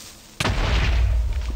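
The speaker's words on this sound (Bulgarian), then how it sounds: "Той взрив направо ми спука ушите." A loud explosion goes off in the block-building video game Minecraft, a sharp blast that gives way to a long, heavy low rumble lasting to the end of the short clip.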